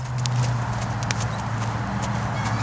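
A horse's hooves clip-clop at a steady walking rhythm during ground driving on long lines. The hoofbeats are moderately close over a constant low hum and outdoor background noise.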